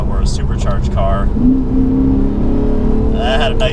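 A Lexus RC F with a naturally aspirated engine revs hard in second gear, its note climbing steadily in a loud, continuous pull from inside the car while a voice talks over it at the start and end.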